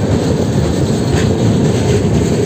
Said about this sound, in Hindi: 2 मिनट के हॉल्ट के बाद ये ट्रेन हमारी बरेली जंक्शन से डिपार्च कर चुकी है